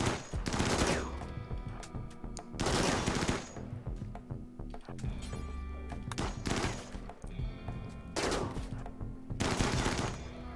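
Gunfire from the video game Rimworld: repeated bursts of rapid automatic shots in clusters every couple of seconds, loud and close over a continuous background, with no talk.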